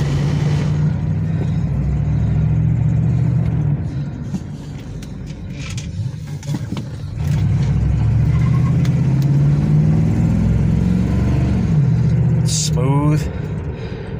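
A 1982 Dodge Mirada engine hums steadily while driving, easing off briefly and then pulling again, with a short whining squeal near the end.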